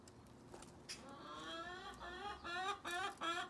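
Backyard chickens clucking close by, a run of quick rising clucks and squawks building in a rhythmic series, fairly quiet against a faint background hiss.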